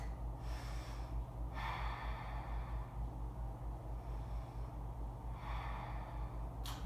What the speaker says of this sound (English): Deep, slow breaths.